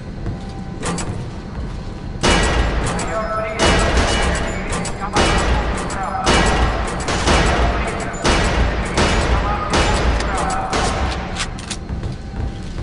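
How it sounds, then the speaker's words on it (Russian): Bursts of automatic gunfire at a shooting range in the video game Area 51, loud repeated volleys of several seconds each separated by short pauses, with no talk. "Подойди к стойке и постреляй немного."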